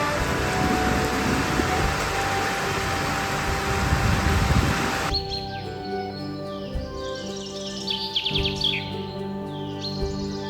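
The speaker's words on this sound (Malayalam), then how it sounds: "കാറ്റിൽ മഴ പെയ്യുന്നത് കാണാൻ നല്ല ഭംഗിയാണ്" Steady wind-driven rain hisses loudly for the first half in a Kerala forest, then stops abruptly, leaving birds chirping and calling nearby over a quiet background.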